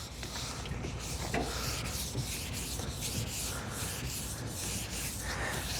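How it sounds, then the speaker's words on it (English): Hand wet sanding of Bondo filler and paint on a box van body produces continuous rhythmic rubbing strokes, close and fairly loud, with a gritty scraping texture and no talking. "Sanding all that Bondo, sanding all the paint off the van"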